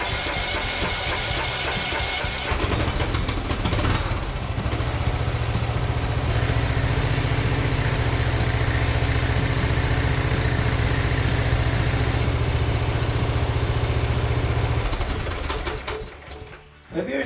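Toro SS4200 zero-turn lawn mower engine running steadily and loudly, a continuous close-up idle rumble with a knocking edge that holds for most of the stretch before cutting off near the end.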